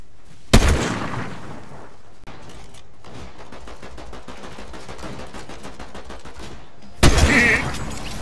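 Sniper rifle shots in a video game: two sharp, loud single cracks several seconds apart, each with a brief ringing tail, over a steady busy background of game sound.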